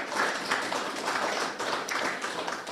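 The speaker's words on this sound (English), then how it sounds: "Can we get a round of applause" Audience applause at an Alaska Department of Fish and Game Hunter Access Program talk, with steady clapping from a small group that swells in repeated waves, moderately loud and close, with no speech over it.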